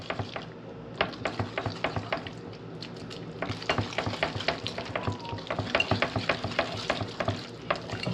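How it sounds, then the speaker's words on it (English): Cheese and a cracked egg being stirred together in a bowl for zucchini lasagna, giving a steady run of close, regular scraping and tapping strokes with no talking. "I'm just going to go ahead and break that egg in there. And we're going to mix these two together."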